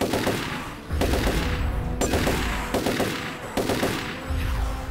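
Rapid automatic gunfire from the video game Turok 3 Remastered. A dense, loud fusillade of shots keeps going for about five seconds, with brief sharp breaks between rattling bursts and no voices.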